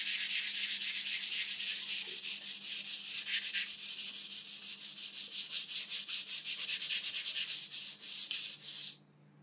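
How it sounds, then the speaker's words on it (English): Fine-grit sanding sponge lightly sanding painted furniture with General Finishes milk paint, a close, continuous hissing scrub in rhythmic back-and-forth strokes that stops abruptly near the end. "we're gonna sand it with a light sanding sponge"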